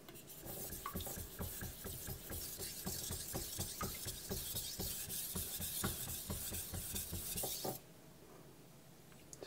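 A kitchen knife is drawn across a Naniwa Pro 1k whetstone in steady repeated strokes, giving a soft rhythmic rasping scrape, close but quiet, that stops abruptly near the end.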